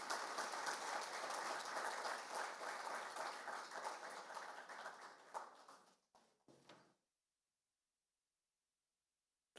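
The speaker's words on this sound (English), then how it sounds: "Please, a round of applause one more time for the Honorable Minister of the Copperbelt Province." Conference audience applauding a provincial minister at an investment event, sustained dense clapping that gradually thins, ends in a few scattered claps, then falls silent.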